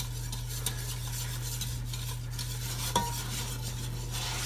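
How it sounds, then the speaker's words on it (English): A whisk working through macaroni and cheese sauce in a pan over medium heat, a steady swishing scrape with light metallic ticks against the pan, close and continuous over a constant low hum, no voices. "Just gonna slowly add the liquid, keep whisking."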